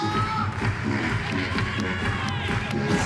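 Spectators at a men's bouldering final in Innsbruck cheer and shout encouragement for a climber, a steady dense roar of voices with some claps, moderately distant and continuous throughout.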